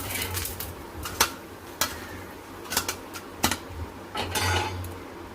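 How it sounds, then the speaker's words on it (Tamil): Idli, made from Mappillai samba rice, being tipped from a steamer onto a plate, giving a few sharp clinks and clatters of kitchenware with soft knocks spaced out over a quiet room hum. "அதை எடுத்து அப்படியே கொட்டிடலாம், நம்ம பிளேட்டில் கொட்டிடலாம்"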